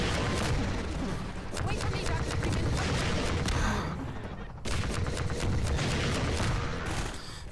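Dense, continuous gunfire in Half-Life 2 during a rooftop battle against Striders, with a sustained loud barrage that briefly drops out once before resuming.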